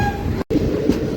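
Train rolling along the Koraput line past Singapur Road Junction in India, heard from inside a general coach as a steady, loud low rumble of wheels and carriage noise, broken by one brief dropout.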